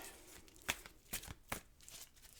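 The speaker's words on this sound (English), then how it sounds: "I'm going to shuffle and deal you an Angel Oracle card" Angel Oracle cards being shuffled by hand, a few soft papery riffles and snaps spaced irregularly, close and quiet with no talking.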